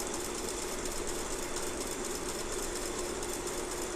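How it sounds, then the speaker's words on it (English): A Linotype typesetting machine in a print shop at Carillon Park in Dayton, Ohio, gives off a steady, dense mechanical clatter and hum that holds at an even level for the whole stretch, with no voices. "listen, you'll hear the match pulled back into the machine"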